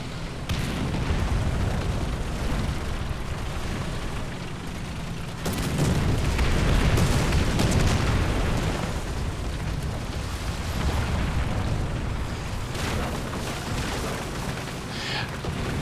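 Enemy artillery shells exploding around a tank in a War Thunder April Fools mode with giant mechs and potato tanks, continuous rumbling booms that swell in the middle, with engine and battle noise underneath.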